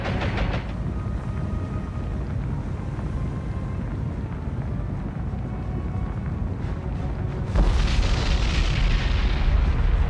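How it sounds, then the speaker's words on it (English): In the naval video game War on the Sea, a sudden deep boom of a ship's magazine exploding erupts over a steady roar of rumbling noise, followed by a louder, sustained blast-like rush. "we've just had a spectacular magazine explosion"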